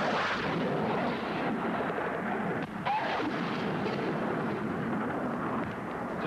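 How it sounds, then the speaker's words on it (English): Heavy gunfire during the Skyhawk air attack at Bluff Cove in the Falklands conflict, a dense, continuous roaring barrage that holds steady and loud for the whole stretch with no voices. "The Skyhawks came in to attack and were out again with our gunfire chasing them too late."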